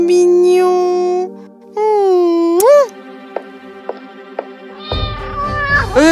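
High-pitched kitten meows, several in a row, close and loud, with a few sharp clicks between them and a rougher cry near the end.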